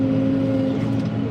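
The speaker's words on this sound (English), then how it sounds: "Can you hear how the engine's revving just at a constant speed?" JCB tractor with Dual Tech transmission, its engine held at a steady, constant rev throughout; a loud, even drone with a strong low hum close by and no talk over it.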